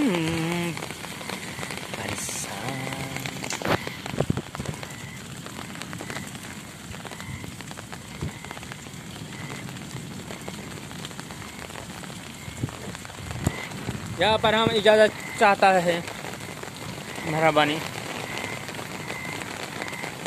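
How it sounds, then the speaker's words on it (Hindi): Heavy rain in Swabi hisses and patters steadily throughout, with someone speaking briefly at a few points over the downpour. "बहुत ज़बरदस्त बारिश हो रही है सवाबी में"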